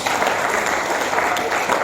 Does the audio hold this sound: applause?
yes